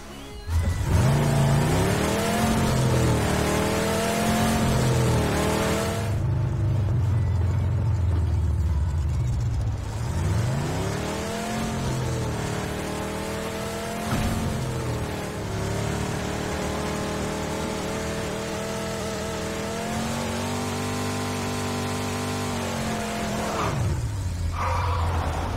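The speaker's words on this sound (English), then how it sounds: "And here it is, guys, the Murado. Very beefy sounding car, very fun to drive." The Mirado sports car in PUBG revs its engine repeatedly, a loud, throaty motor rising and falling in pitch through several gear changes and accelerations, close and continuous with no talk.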